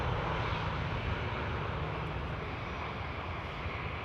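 A jet airliner arriving at Amsterdam Schiphol Airport rumbles as a steady, broad engine roar, moderately distant and continuous with no voices over it.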